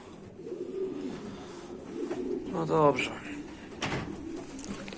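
Pigeons in a loft coo softly and repeatedly, a few clearer calls rising midway, while someone talks over them close by.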